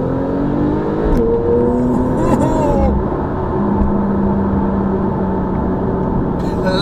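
A red Porsche accelerating in Sport Plus with manual gear selection, its engine droning loudly from inside the cabin with rising tones as it pulls, one long continuous run.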